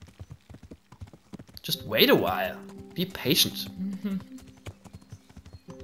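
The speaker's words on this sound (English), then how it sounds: "Hello, horse. Look how it's coming." A horse's hooves clop closer in the medieval game Kingdom Come: Deliverance, a quick uneven trot that swells and then settles, with people talking over it.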